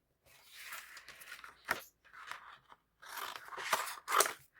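Scissors snip through card in short crunchy bursts, trimming roughly half an inch off each side of a chocolate orange box, several close cuts separated by brief pauses, no talking.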